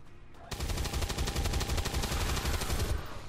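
Rapid automatic weapon fire from the XCOM 2 video game, a loud sustained burst of close gunshots lasting several seconds after a brief quiet start, then cutting off.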